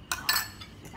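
Utensil stirring hermit crab sauce in a bowl before it goes into the pan: two quick clinking, scraping strokes near the start, then softer faint scrapes, with no talk.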